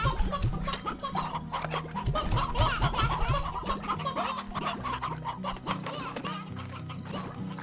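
Chickens cluck in a coop in the Slime Rancher video game, with repeated fowl calls close up and steady over a bed of game music.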